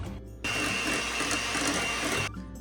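An electric hand mixer beats an egg into a creamed butter and sugar mixture, a steady loud whirring motor running continuously for about two seconds after a brief quieter start, then cutting off.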